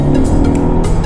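Skoda Octavia RS hybrid car accelerating from inside the cabin, a loud, steady engine drone with rising intensity throughout, no talking.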